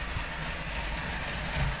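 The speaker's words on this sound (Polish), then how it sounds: "Za chwilkę sobie zatrzymam lokomotywę." Model railway locomotive running along a layout track, giving a steady low rumble and light rail clatter at close range, continuous throughout with no speech.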